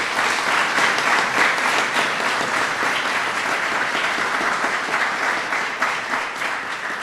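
Steady applause from a ceremony audience welcoming senators at a swearing-in for the US Ambassador to Japan, dense continuous clapping throughout, tapering slightly at the end.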